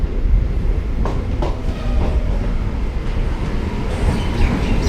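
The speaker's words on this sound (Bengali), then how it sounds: "ট্রেন আর এই মুহূর্তে মুর্শিদাবাদের 3 নম্বর প্ল্যাটফর্মে প্রবেশ করছে" A MEMU passenger train pulls into platform 3 at Murshidabad station with a steady, loud rolling rumble and faint clatter of wheels over rail joints throughout.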